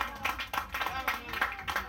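Brief rhythmic clapping from an audience at an awards ceremony honouring cattle ranchers at the 2013 Martínez de la Torre fair, quick and fairly quiet, with voices mixed in.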